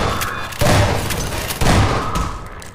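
Automated turret machines in Half-Life 2 fire in loud, close bursts of gunfire with heavy booming thuds, two strong volleys rolling continuously against dense background noise.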